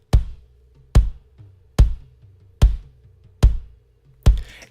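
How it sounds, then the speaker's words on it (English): Three kick drum samples blended together in a church drum mix, sounding as six evenly spaced heavy thumps with a deep low end, a sharp attack and a roomy tail, played alone. "that's already a really, really good kick sound"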